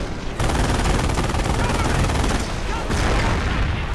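Dense, loud sustained gunfire in a Company of Heroes battle, rapid machine-gun bursts blending into a continuous roar of shots that barely lets up.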